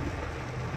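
Rain pours steadily on a roadside near Town Center, Alabang, a dense continuous hiss with low rumbling undertone, filling the whole moment without any voices.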